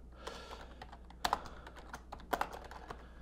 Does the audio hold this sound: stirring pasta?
no